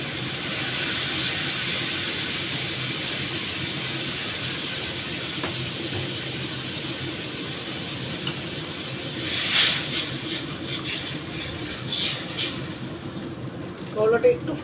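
Water poured into a hot pan of bitter gourd on a high gas flame sets off a loud steady hiss and steam that slowly fades, with clinking near the end.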